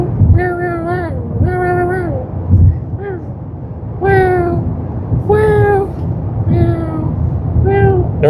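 A human voice imitates a cat, producing a series of drawn-out, wavering meows, about seven in a row with short pauses between them, loud and close to the microphone.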